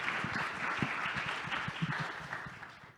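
Audience applause at a Money 20/20 conference session, a steady wash of many hands clapping that fades slightly toward the end.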